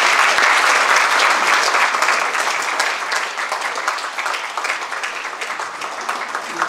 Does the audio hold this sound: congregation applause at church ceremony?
yes